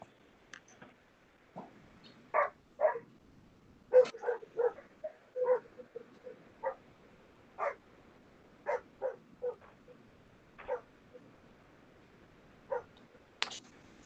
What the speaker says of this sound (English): I got two dogs running around barking.